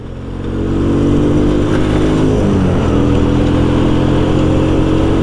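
A Kanuni Cup 100 motorcycle engine droning loudly and steadily while being ridden, rising in the first second and then holding a constant close hum to the end.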